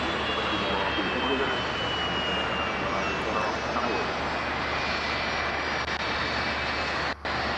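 A de-iced airliner taxiing out on an icy morning gives a steady, loud jet engine whine and broad rumble that holds throughout without a break.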